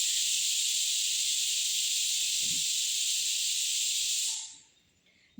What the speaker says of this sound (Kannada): ಹಂಗೆ ಕುಕ್ಕರ್ ಸ್ವಲ್ಪ ಸೌಂಡ್ ಬರ್ತಾ ಇದೆ